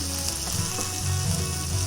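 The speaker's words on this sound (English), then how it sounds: "I'm going to put just a little bit of butter in there." A little butter sizzles in a hot pan as a cook prepares ground beef for a giant chili cheese dog, giving a steady, close frying hiss throughout.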